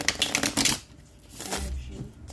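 Oracle cards are shuffled by hand in quick, crisp riffling bursts, close and fairly loud, with a brief pause before another softer round of shuffling.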